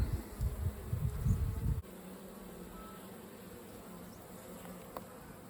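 Honey bees at a pollination hive buzz in a dense, close swarm for about two seconds, then cut off abruptly, leaving only a faint hum and hiss.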